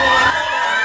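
A crowd at El Gigante cheers and shouts in a brief, loud burst of massed voices, dense and close, lasting under a second.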